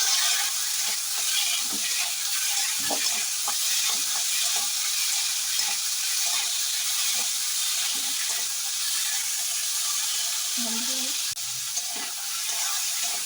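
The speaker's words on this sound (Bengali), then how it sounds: "আলুটা কিন্তু সুন্দরভাবে ভাজা হয়ে গেছে আর ফোড়নের একটা খুব সুন্দর মিষ্টি গন্ধ বেরোচ্ছে আলুর থেকে" Potatoes fry in hot oil with whole garam masala for a vegetarian paneer dish. A continuous bright sizzle runs throughout, broken by occasional scrapes and knocks of a spoon stirring the pan close by.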